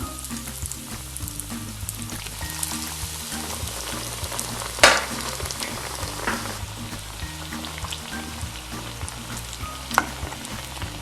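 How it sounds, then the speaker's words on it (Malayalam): Unnakaya, plantain dumplings, fry in hot oil in a wok-like pan, giving a dense continuous sizzle with a couple of sharper pops or clanks, heard close with no talking. "നമ്മുടെ എണ്ണ ചൂടായി, ഉന്നക്കായ ഇട്ട് കൊടുക്കാം."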